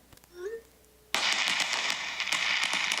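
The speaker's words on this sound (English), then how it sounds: "It has firecrackers." A burst of firecracker crackling and popping plays loud and continuous from a smartphone New Year message, following a short rising whistle, with no voices.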